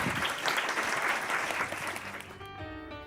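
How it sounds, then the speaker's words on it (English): An audience applauds at a live podcast recording about Paris dining, dense clapping that holds steady and then thins out toward the end. "Can we have a big round of applause for these three"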